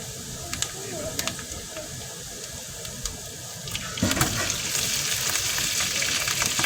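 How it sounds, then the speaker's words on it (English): Sauerkraut frying in a pot with a soft sizzle and intermittent stirring clinks, then a louder, denser hiss after the midpoint as the cabbage hits the hot fat. "now you gotta keep like stirring it around to get the brownness going"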